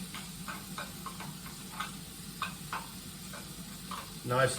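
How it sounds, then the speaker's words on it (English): Carbonara gets stirred in a pan in a quiet kitchen, with soft scraping strokes and light ticks at an irregular rhythm over a faint sizzle, ending in a louder scrape. "Then I'm just going to mix that around a little, just to get it nicely"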